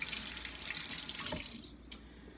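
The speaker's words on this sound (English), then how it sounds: "So I'm rinsing my hands again." Tap water runs steadily into a sink as hands are rinsed under it, a close gushing splash that cuts off abruptly partway through, leaving quiet drips.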